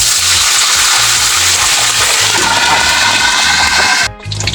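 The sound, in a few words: water sprinkled into pan of frying adobo sitaw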